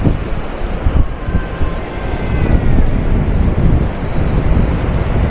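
Ocean surf rolling in at Varca Beach in South Goa, a steady broadband wash of waves with a faint tonal hum drifting through, continuous and fairly loud with no voices.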